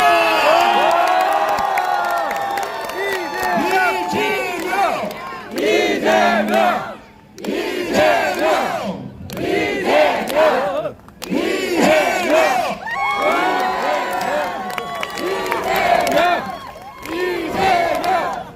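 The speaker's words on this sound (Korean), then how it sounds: "단상으로 모실 때 뜨거운 박수 부탁드리겠습니다" At a Democratic Party election rally, a large crowd roars with cheers and rhythmic chanted shouts in repeated loud bursts as party leader Lee Jae-myung is called to the stage, with brief pauses between swells.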